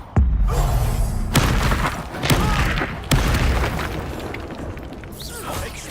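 Confringo fire spell exploding in Hogwarts Legacy, a loud booming blast with several heavy thuds and crackling bursts in quick succession, close and full, with a little game speech mixed in.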